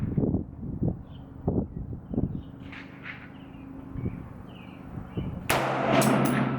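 Several sharp shots ring out outdoors in uneven succession from a Sig Sauer 300 BLK rifle with a 10.5-inch upper firing supersonic 125-grain factory ammunition, with wind noise between reports and a louder burst near the end.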